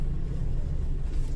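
A car sits idling at a traffic light, its low engine rumble steady and close, with no talking.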